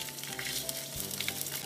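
Tasmanian salmon fillet fries skin side down in a hot pan, a steady, close sizzle with crackling spits running throughout, without talk.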